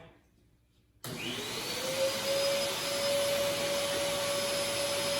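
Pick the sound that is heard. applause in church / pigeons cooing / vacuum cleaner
vacuum cleaner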